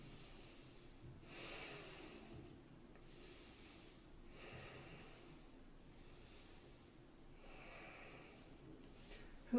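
Slow, smooth breathing held during a yoga pose, with soft close inhales and exhales rising and falling in an even rhythm about every one and a half seconds, faint against a quiet room.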